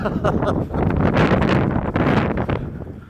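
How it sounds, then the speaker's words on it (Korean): Strong wind blows outdoors beside a river at a fishing spot, roaring and buffeting a nearby microphone in loud, continuous gusts with rustling. "자 이렇게 해서 바람이 불어서"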